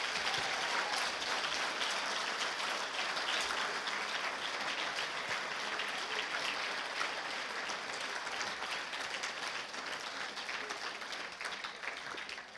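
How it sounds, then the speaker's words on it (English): A banquet audience at a university awards event gives sustained, dense applause that holds steady for the whole stretch and tapers slightly near the end. "I would really appreciate a hand of applause for all of the people that are here."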